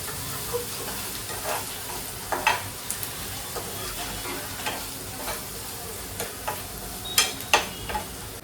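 Onions sautéing in a pan for mushroom masala bhaji, a steady soft sizzle with scattered stirring scrapes and clinks of a spoon, moderately near and without talk.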